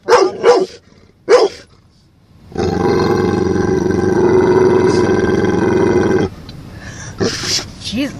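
A pit bull sits in a car at a car wash while a loud, steady roar of machinery runs for several seconds, with brief bursts of barking or voice before and after.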